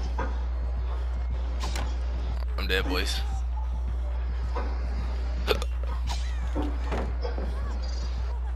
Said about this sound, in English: These hiccups are bad.